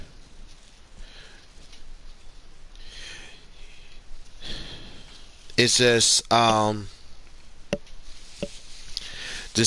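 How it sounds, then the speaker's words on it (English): A person blows their nose in two loud, honking bursts close to the mic, after a stretch of quiet talking. "blowing my nose."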